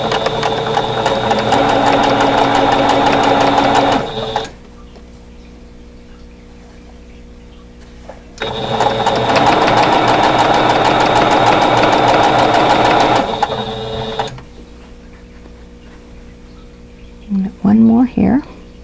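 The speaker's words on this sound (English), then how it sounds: "I'm going to nest my seams and sew with 1/4 inch seam allowance" A sewing machine stitches quilt block seams with a quarter-inch allowance, two loud sustained runs of rapid mechanical whirring separated by a pause, with soft handling noise near the end.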